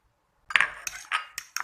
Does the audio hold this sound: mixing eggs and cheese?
yes